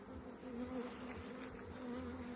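Honeybees buzz around an open beehive while a super is being added, a soft, continuous drone of many wings with slight rises and falls, faint and steady with no talking.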